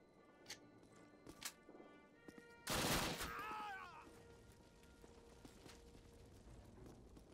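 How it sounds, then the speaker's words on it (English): Call of Duty gunfire: a few faint distant cracks, then one loud close burst with a ricochet-like whine, fading into low background battle noise. "They just getting shot at."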